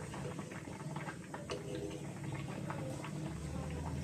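Dal simmering in a pot for sukhto: a soft, continuous bubbling and popping, faint and close, with scattered small splashes and a low background hum.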